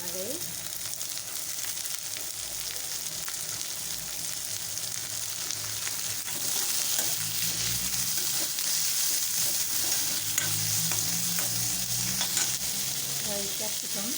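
Onion and spring onion fry in a pan for egg chowmein, producing a steady hissing sizzle with occasional stirring sounds, moderately close and fairly quiet.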